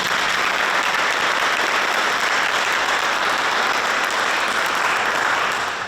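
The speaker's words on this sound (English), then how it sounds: "So a round of applause to our planning committee." Sustained audience applause at a Shinnecock Heritage Day community event, a dense, even wash of clapping from many hands lasting several seconds without any voices.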